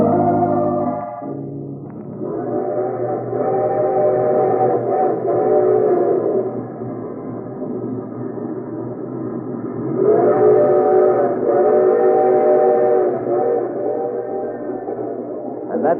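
Steam train in a radio drama, running steadily with a loud, sustained multi-tone whistle that sounds, fades slightly and swells again over a continuous rumbling bed.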